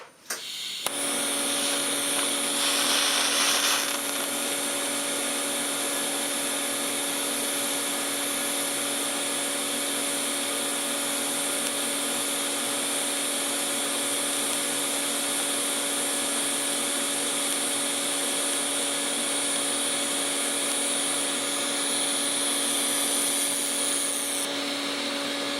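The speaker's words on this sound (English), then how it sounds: "Start the weld." A welding arc burns continuously for over twenty seconds as a steady, loud, close hiss and buzz with a high whine, starting abruptly and cutting off sharply near the end.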